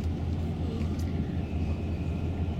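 Steady low rumble of a sightseeing tour bus rolling through Tallinn, Estonia, between the old town and the modern city, an even engine and road drone throughout with no talk.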